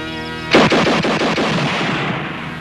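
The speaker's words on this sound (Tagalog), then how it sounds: "Ganitong putok." A single gunshot in a Filipino crime action film, one sharp loud blast close by followed by a rolling echo that decays over about two seconds, with no talk.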